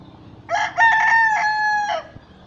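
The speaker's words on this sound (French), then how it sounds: "Mon coq qui est en train de chanter." A rooster in a garden crows once, close and loud, in a clear cock-a-doodle-doo lasting about a second and a half against quiet surroundings.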